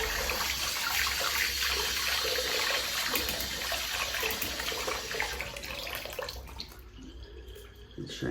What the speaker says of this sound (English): So I'll just dip in some hot water.